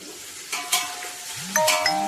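Onions frying in a pan with whole spices, browning toward golden, give a steady close sizzle broken by a few sharp clinks and scrapes of a utensil against the pan.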